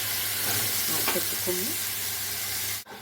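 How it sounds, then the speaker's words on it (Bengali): Capsicum hits hot spiced oil and tomato masala for a vegetarian chhana curry, giving a loud, steady, close sizzle with faint stirring. The sizzle cuts off abruptly near the end. "এবার মশলা থেকে তেল ছেড়ে গেছে, এবার ক্যাপসিকামগুলো দিয়ে দেবো।"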